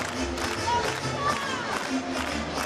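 A crowd at an NCAA women's volleyball tournament match between Utah and Nebraska cheers and roars in a short, steady burst of mixed voices and clapping.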